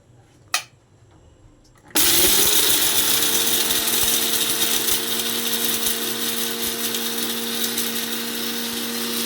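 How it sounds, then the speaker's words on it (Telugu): After a quiet moment with a single click, a mixer grinder jar of coconut powder and spices starts up abruptly and whirs loudly and steadily at close range with a high whine, continuing to the end. "ఇవి వీటిల్లో పెట్టి మిక్సీ వేయాలి"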